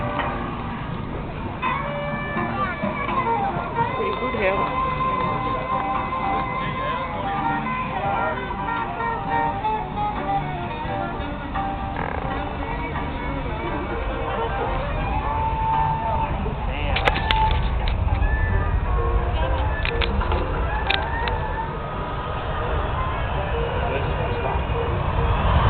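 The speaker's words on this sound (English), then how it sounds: "About to put it down and demonstrate the stall characteristic of the C-17." A Boeing C-17 Globemaster on final approach at an air show rumbles and whines in a steady distant drone, with a commentator talking over it and a few sharp clicks near the end.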